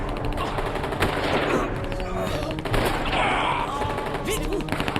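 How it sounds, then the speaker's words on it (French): Sustained machine-gun fire and overlapping gunshots in a French war film, dense and loud throughout with a few sharper bursts near the end. "On tire dessus."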